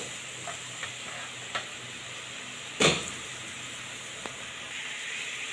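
Marinated chicken browning in a pan, with a soft steady sizzle under a few scattered clicks and one sharp clatter of a utensil partway through.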